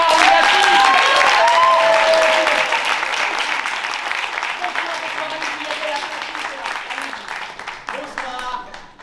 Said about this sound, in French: Allez, on les applaudit, on les affiche,